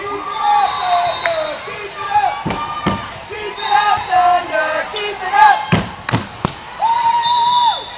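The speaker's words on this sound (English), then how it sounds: "A rowdy Thunder crowd welcomes the team back onto the floor" A rowdy home crowd roars in a gym at a girls' varsity volleyball match as the Thunder team returns to the floor, with loud sustained noise, sneaker squeaks and sharp thuds throughout.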